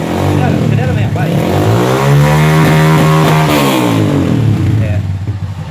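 A Honda Fan 160 motorcycle engine revs hard and loud close up, its pitch sweeping up and back down with a slight misfire roughness, while someone talks over it.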